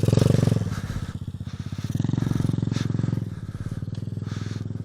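An enduro motorcycle riding off-road, its single-cylinder engine chugging in a fast pulsing rhythm, swelling and easing as the throttle opens and closes, close and loud with some clatter.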